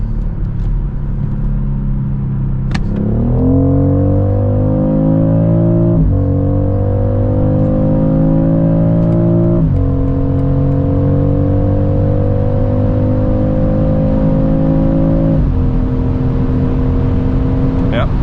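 BMW X3 M50 G45 (400 hp) accelerating hard, a loud engine note climbing steadily with several distinct gear shifts that each drop the pitch before it rises again, close and sustained.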